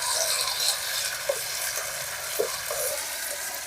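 A paste of ginger, garlic, coconut, poppy seeds and onion frying in a pan, giving a steady, loud broadband sizzle with a few soft stirring scrapes.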